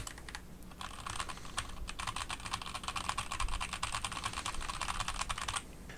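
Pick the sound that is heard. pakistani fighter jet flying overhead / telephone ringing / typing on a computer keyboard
typing on a computer keyboard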